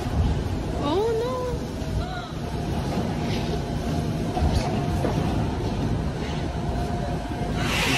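Steady loud rumble of a moving Moscow metro train at rush hour fills the clip, with wheel squeals and rattling, and voices faintly audible in the background.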